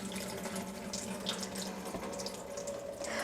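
Kitchen tap water runs steadily into a bowl while basmati rice is rinsed, a continuous close splashing hiss with small irregular sloshes and no talking.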